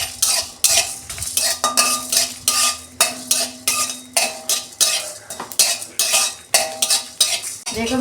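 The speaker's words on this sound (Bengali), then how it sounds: "কড়া বসিয়েছি, এটা আমি শুকনো খোলায় নেড়ে নেব।" Dried red chillies, cumin, coriander and fennel seeds are dry-roasted in a kadai, stirred with a utensil in repeated close scraping, rattling strokes against the metal pan, steady and rhythmic.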